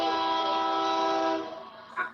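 Train horn from a train passing on a nearby railroad track, a loud sustained multi-tone blast that holds steady before fading away, with a brief bump of other noise near the end.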